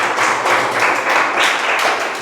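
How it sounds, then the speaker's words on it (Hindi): Steady, dense applause from an audience at an impromptu speech competition, continuous clapping filling the whole stretch with no voices over it. "और एक बार तालियां सुभी के लिए बहुत"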